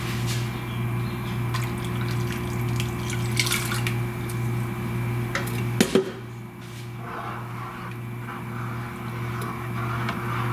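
Water poured into a cooking pot in a home kitchen, a steady splashing and trickling fill under a low constant hum, close and moderately loud, ending in a few drips and clinks.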